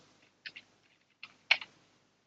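Soft keyboard typing on a computer, entering text into a Windows search box: two short bursts of a few quiet clicks each, close and alone with no talk.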